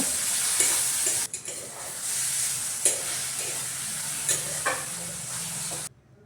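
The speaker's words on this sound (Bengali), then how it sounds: "টমেটো লঙ্কা পেঁয়াজ সবগুলোকে ভালো করে ভেজে নেব" Tomato, chili and onion fry in a pan while a utensil stirs through them, a steady close sizzle running throughout with a few scraping strokes, cutting off abruptly at the end.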